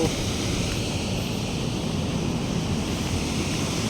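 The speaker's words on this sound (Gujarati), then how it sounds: "પાણીનો અવાજ કેવો આવે છે મિત્રો જોઈ શકો છો" Water pours through the Dantiwada dam in a steady, loud, unbroken roar of rushing flow with no breaks, heard close and alone with no voices.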